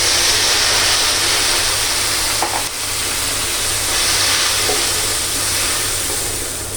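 Spice masala frying in a pan, being cooked down before shrimp go in, gives a steady, loud, dense sizzle and hiss that runs unbroken throughout, with only a faint clink partway through and no voices.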